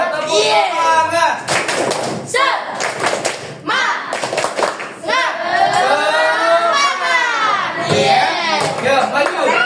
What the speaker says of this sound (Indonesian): Sekali lagi yuk, tepuk semangat